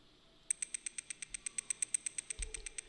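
Rapid, evenly spaced hits from a layered hi-hat sample form a tight, bright repeating techno pattern, with a soft low thud near the end.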